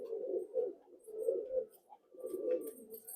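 Madrasi pigeons coo in three soft, throaty bursts with short gaps between them. The calls are close and there is no talk over them.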